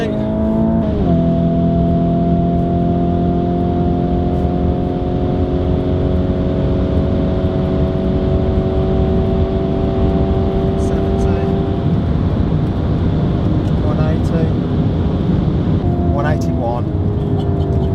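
A car engine revs hard through rising gear pulls during a 0–60 acceleration test, loud and close throughout, with excited voices talking over it.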